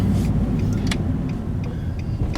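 Steady low exhaust drone heard from inside a Nissan 350Z/370Z fitted with an Invidia Gemini cat-back exhaust and Berk Tech high-flow cats, idling or rolling slowly while turning around in a neighborhood, with no talking.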